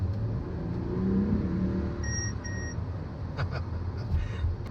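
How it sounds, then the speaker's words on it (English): A Mercedes-Benz GLS SUV's Distronic Plus car-ahead warning sounds as a short pair of electronic beeps midway through, over steady road and engine noise inside the cabin. "So that beep is for a warning of having a car ahead."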